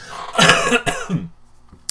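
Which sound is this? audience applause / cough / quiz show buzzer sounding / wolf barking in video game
cough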